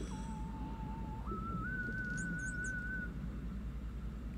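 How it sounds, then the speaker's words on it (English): A diver in the underwater game Endless Ocean whistles to sea creatures: a steady, clear tone that steps up to a higher held pitch partway through, over a constant low ambient drone, with no talking. "They like me whistling initially."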